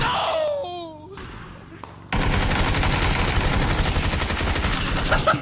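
Rapid bursts of video game gunfire, first a thinner stretch under a voice's whoops, then a sudden loud, dense volley of continuous automatic fire that runs steadily to the end.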